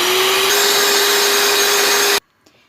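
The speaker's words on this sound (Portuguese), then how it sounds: "Vou bater bem até o chantilly ficar aerado." An electric mixer whips chilled whipped cream in a loud, steady motor whine that runs without pause for about two seconds, then cuts off abruptly into near silence.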